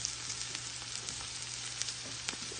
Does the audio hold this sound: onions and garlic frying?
yes